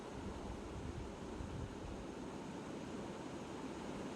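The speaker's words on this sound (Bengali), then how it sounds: "এবার গরম জল দিয়ে দিলাম মাংসের মধ্যে" Hot water poured into a pan of chicken being cooked down for a red yogurt chicken curry, a steady close rushing wash that holds evenly throughout without pause or voices.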